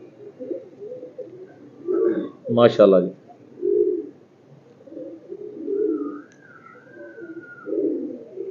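Breeder pigeons coo softly in low, repeated throaty bursts close by, while someone speaks briefly over them.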